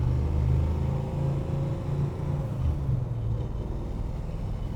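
A 1966 Dodge Charger drives along a road, its engine giving a steady low rumble with a slight rise and fall in pitch, close and continuous, with no talking.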